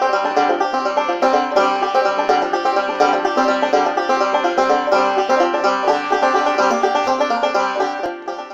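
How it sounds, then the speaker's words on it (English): A 5-string banjo plays a steady run of bright, rhythmic plucked notes, loud and close, with no talk. "I play this thing, which is called a 5-string banjo because it has 5 strings."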